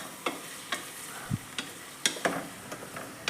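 Curry leaves and onions fry in ghee and oil for chicken curry, a low sizzle under a series of sharp spoon-stirring scrapes and clicks about every half second.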